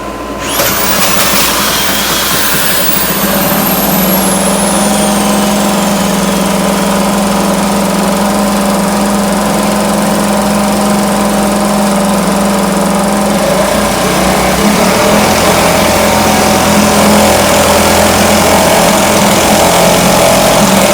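A 1971 Johnson Mate 2 hp outboard motor runs steadily and loud at close range after a carburetor cleaning, a continuous buzzing drone that holds throughout, its pitch shifting slightly partway through.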